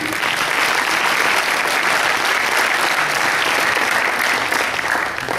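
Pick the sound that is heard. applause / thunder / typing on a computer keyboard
applause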